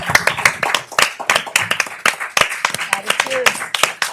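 A small audience gives a standing ovation at a New Jersey Board of Public Utilities meeting, with sharp, scattered handclaps in a brisk uneven rhythm while voices murmur and talk underneath.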